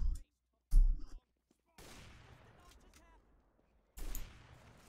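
Gunfire in Team Fortress 2: short sharp bursts at the start, then a longer rattling volley and another burst near the end, mid-loud with gaps of silence between.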